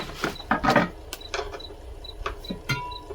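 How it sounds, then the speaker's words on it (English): A ratchet clicks in short uneven bursts while bolting down a fence, close and crisp, with brief pauses between the turns and faint outdoor background. "We gotta bolt the fence down. So this should bolt right there."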